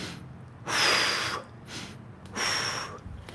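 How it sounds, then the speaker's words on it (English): Two deep breaths taken during a stretching workout, each a loud, close, airy inhale and exhale with a short quiet gap between them. "Inhale, exhale."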